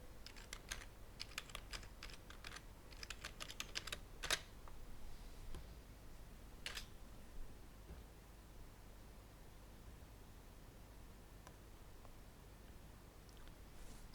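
Brisk bursts of keystrokes on a computer keyboard enter a password, quick soft clicks clustered in the first few seconds, then a couple of isolated taps over a quiet hiss.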